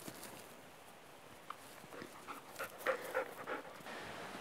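A dog pants softly and rhythmically during obedience training, faint and close, with a few light footfalls on the ground.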